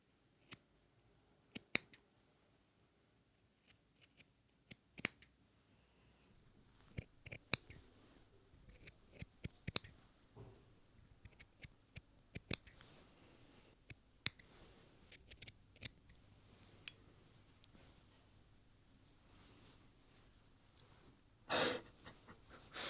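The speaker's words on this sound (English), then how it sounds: "I think it's pretty normal and I can just cut through it" Scissors snip through knitted fabric to cut a steek, producing sharp, close, separate cuts in irregular bursts against near silence, with a brief breathy rustle near the end.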